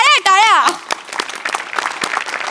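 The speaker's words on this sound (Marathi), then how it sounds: "टाळ्या." A studio audience on a Marathi comedy show breaks into a burst of clapping right after a voice, the applause continuing steadily and moderately loud.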